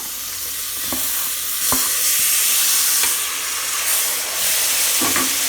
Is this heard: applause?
no